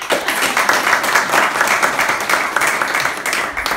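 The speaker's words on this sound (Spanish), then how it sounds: "Un aplauso para Paqui." An audience at a voice and singing workshop breaks into lively applause, a dense, continuous patter of many hands clapping close by for several seconds.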